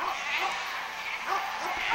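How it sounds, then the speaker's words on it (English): Sheep bleat a few times in wavering calls over a noisy outdoor background on New Zealand's South Island, fairly close. "And guess what? More sheep."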